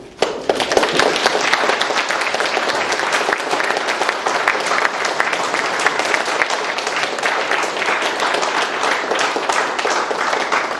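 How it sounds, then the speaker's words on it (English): An audience at an Assembly District 16 candidate debate breaks into loud, continuous applause that starts abruptly and stays full and even throughout. "that's a applause for both candidates"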